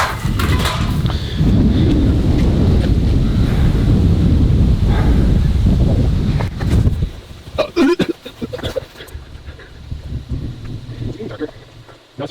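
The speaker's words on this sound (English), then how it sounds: "Dang it, it's windy in here too." Strong wind buffets the microphone outdoors for about seven seconds, a loud rumbling roar, then eases to lighter gusts with scattered handling bumps and a voice.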